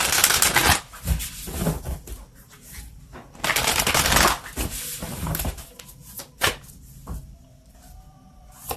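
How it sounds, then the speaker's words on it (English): Oracle cards are shuffled by hand in repeated loud, close bursts of riffling and flapping, separated by short pauses, with no voices. "So let's just get the final oracle card here for you."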